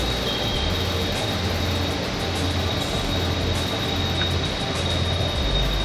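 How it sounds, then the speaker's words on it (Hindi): A metro train passing on the line between Subhash Nagar and Ambazari stations, giving a loud, steady rushing rumble with a low drone throughout. "एक मेट्रो आई और ये मेट्रो अभी जा रही है अंबाझरी"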